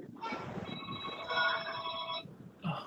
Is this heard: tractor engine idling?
no